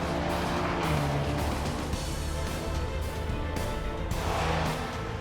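A Maserati Levante SUV driven in sport mode gives a steady, loud engine roar that holds throughout with little change in level and no voices.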